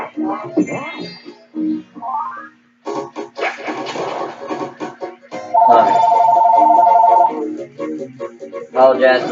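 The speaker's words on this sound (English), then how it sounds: "Apologize for the phone ringing in the background." A telephone rings in the background with a steady electronic trill, while a person speaks intermittently over a video game, with pauses between phrases.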